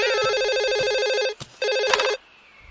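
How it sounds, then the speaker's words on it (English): Two loud electronic rings from a cartoon telephone, the first longer and the second cut off short, with a soft thump between them and quiet afterward. "Fabian, I can hear the phone."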